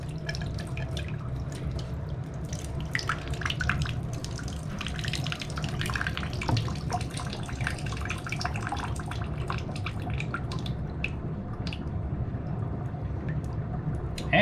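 Water runs steadily into a bathtub to test a newly installed drain for leaks, a continuous trickling and splashing flow with drips, close and moderately loud throughout.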